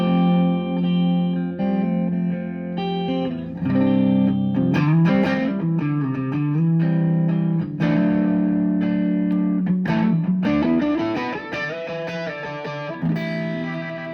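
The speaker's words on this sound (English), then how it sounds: "Kick on this reverb." Electric guitar chords ring out with a spacious reverb tail, notes blooming and sustaining loudly, with no talking.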